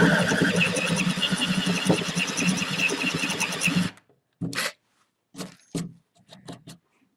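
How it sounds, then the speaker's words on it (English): A paddle bit boring a hole through wood, a steady loud whirring grind for about four seconds that then stops, followed by a few short bursts of handling noise and knocks. "Now let's see the paddle bit in action."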